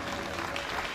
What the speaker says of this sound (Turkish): Ömer Arısoy Başkanıma güçlü bir alkış rica